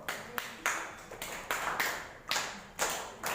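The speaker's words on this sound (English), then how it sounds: "Give clap for Krishna." Students in a classroom clap together in a slow, rhythmic pattern of about seven distinct, evenly spaced group claps, close and moderately loud, with no talking between them.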